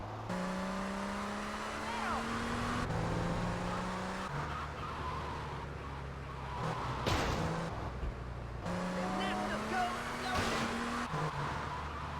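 A Porsche's engine in Grand Theft Auto Vice City Definitive Edition revs loud and close, climbing through gear shifts with falling and rising pitch and brief tire noise, while someone talks over it.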